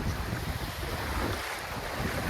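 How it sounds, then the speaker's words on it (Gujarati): Strong floodwater rushes past after heavy rain in a village, a steady, loud, broadband roar of churning current close by with wind buffeting the microphone throughout, no voices. "આમાં પાણી જાય છે આમ, અને આ ખેંચે છે કેટલો જો, શક્તિ કેટલી છે આ પાણીમાં"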